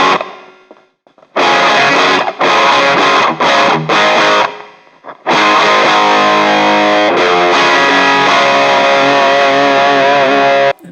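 Electric guitar through a Cuvave Cube Baby amp with bluesy, plexi-style distortion and light reverb, loud and close, playing sustained chords and riffs with brief pauses early on, then ringing steadily.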